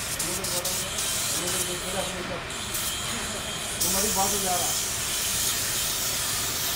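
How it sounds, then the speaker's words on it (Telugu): A spray gun hisses steadily as paint is sprayed onto a bus being repainted after a road accident, close and continuous, with voices talking over it. "చూడండి కిందకి స్ప్రే పెయింట్ ఏ విధంగా స్ప్రే అవుతుంది"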